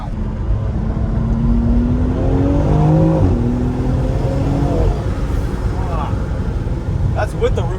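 A BMW X3M Competition SUV with roof rack and tow hitch accelerates hard, its engine rising loudly from inside the cabin with a climbing rev through gear changes, while people talk excitedly over it.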